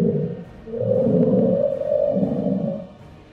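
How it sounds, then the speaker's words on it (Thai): Eerie, drawn-out creature howl from deep jungle, resembling logs being dragged, a low moaning wail that swells and sustains loudly for about three seconds before fading, with no talk. "เสียงนี้คล้ายเสียงหอนและเสียงลากซุงมากกว่าจะเป็นการคำราม"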